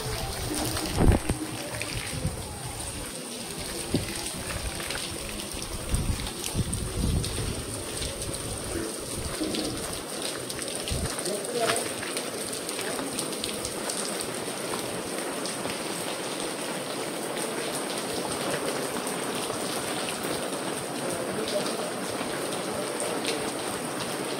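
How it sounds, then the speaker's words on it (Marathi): Heavy rain pours steadily near a Durga idol pandal in Waghivali during a Navratri visit, a dense continuous hiss with scattered louder patters and drips close by, fairly loud throughout with no voices. "पाऊस पण भरपूर पडतोय"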